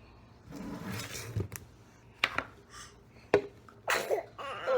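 A sick baby gives a few small, quick sneezes and snuffly breaths among soft babbling sounds, faint and close in a quiet room.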